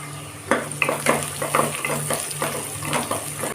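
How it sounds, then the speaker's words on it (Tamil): Onions and curry leaves sauté in a pan with a close, steady sizzle, as a spoon stirs and scrapes the pan in quick repeated strokes. "இந்த வெங்காயத்தை வந்து நல்லா வதக்கி விட்டுக்கலாம்"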